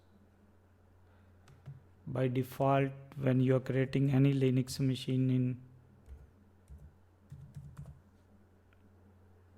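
Light clicking of a computer keyboard as an address is typed, faint and close, mostly buried under a man's steady speech, with a few soft taps coming through after he pauses.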